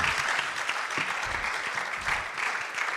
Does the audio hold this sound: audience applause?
yes